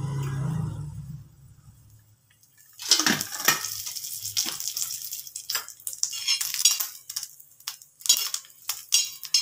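Grated coconut roasts in a little oil in a pan, scraped and stirred with a metal spoon in quick clinks and rustles, with a low sizzle underneath after an opening stretch of hum and near-silence.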